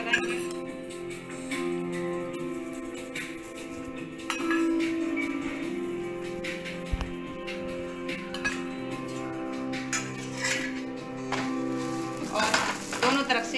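Naan roasting in oil on a hot pan gives a continuous, moderate sizzle with occasional metallic clinks, while someone talks over it.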